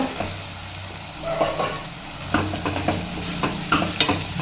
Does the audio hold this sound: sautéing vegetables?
yes